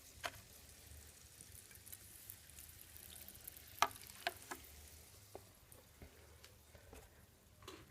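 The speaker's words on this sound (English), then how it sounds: "And pour it into one of the two Petri dishes." Soda water poured into a Petri dish fizzes with a faint, continuous crackling hiss, dotted with small ticks and pops from bursting bubbles, quiet and close.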